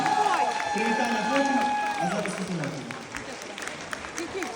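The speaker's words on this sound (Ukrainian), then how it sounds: "А ви сюди поаплодуйте, будь ласка." Audience applause and cheering at a lively street or stage event, with clapping and crowd noise running under overlapping voices and music throughout.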